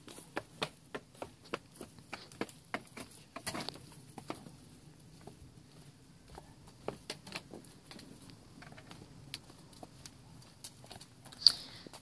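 A haltered horse is led out to pasture, its hooves sounding a steady series of clopping steps on hard ground, close and fairly even in rhythm over a quiet background.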